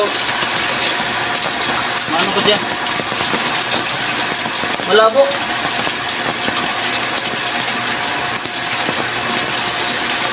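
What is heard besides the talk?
surface deepwell water pump running, water flowing out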